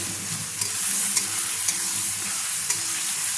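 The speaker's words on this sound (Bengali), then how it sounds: "আমি কষিয়ে নিচ্ছি মশলাগুলো তেলের সঙ্গে।" Spices, ginger paste and chilli being stir-fried in oil for a green papaya curry, a steady close sizzle broken by a few sharp scrapes of the spoon against the pan.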